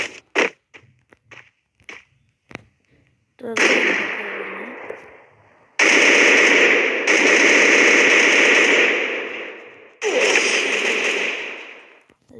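Heavy gunfire from a large weapon in the shooter game Free Fire: a few sharp isolated shots, then long loud sustained bursts of rapid fire with brief pauses between them.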